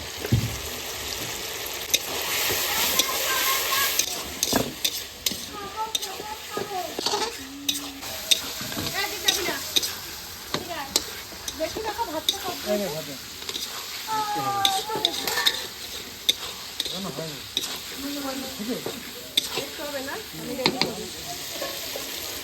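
Onions sizzle steadily in a hot pan while a utensil stirs and scrapes repeatedly against the metal, clinking now and then.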